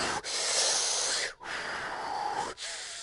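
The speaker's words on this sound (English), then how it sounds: "it sounds like something breathing on my neck" Heavy, hissing breaths from a video game, with long steady rushes broken by brief pauses, close and loud, as if something is breathing on the player's neck.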